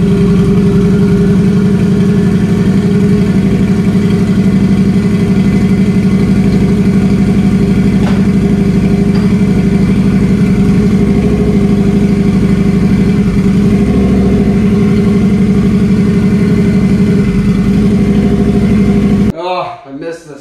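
A Harley-Davidson V-Rod motorcycle with a turbo engine runs close by, holding a steady, loud idle with an even low throb for about twenty seconds before it cuts off near the end.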